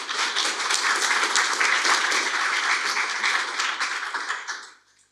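A lecture audience breaks into sustained, dense applause to welcome a visiting history professor, a steady wash of many hands clapping that fades out near the end.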